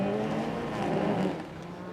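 Race cars at speed on a circuit in Trois-Rivières during a GP3R qualifying session, a close, loud engine roar sweeping past and fading slightly at the end.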